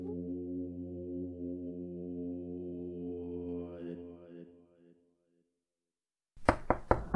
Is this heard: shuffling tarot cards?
no